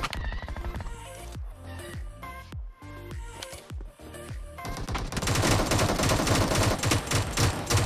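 Gunfire in a mobile battle royale game: separate sharp shots and short bursts crack out at first, then give way to dense, continuous rapid automatic fire that stays loud and close.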